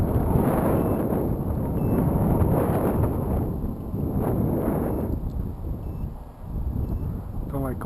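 Strong outdoor wind buffeting the microphone while sky surfing, a loud steady roar with gusty swells throughout and no one talking.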